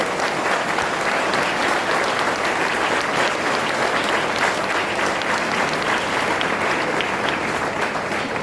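A university crowd rises for a standing ovation, producing a long, loud, even roar of many hands clapping that holds steady throughout without speech.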